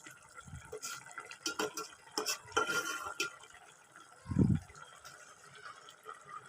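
A spoon gently stirs a boiling curry of potato and puti fish in a pot, giving soft scrapes, light clinks and bubbling, with one brief low thump partway through.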